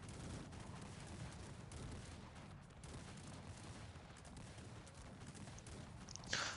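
Cossacks 3 battle: many horse hooves clatter in a steady galloping patter under a faint, muffled haze of distant gunfire, with a sharper crack right at the end.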